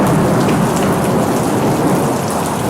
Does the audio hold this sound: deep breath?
no